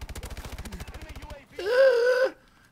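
A KF5 submachine gun in Call of Duty: Advanced Warfare fires one rapid, evenly spaced automatic burst of well over a dozen close, punchy shots, then stops; a short voiced sound follows after a brief pause.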